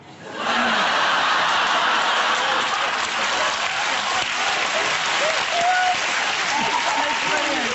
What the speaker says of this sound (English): Why are we clapping for that?